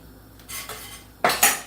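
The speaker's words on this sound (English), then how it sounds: "Washing my dishes in the back." Dishes are washed in the back of a home kitchen, with cutlery and pots clattering in a few sharp, loud knocks and rattles close by, separated by short quiet gaps, and no talking.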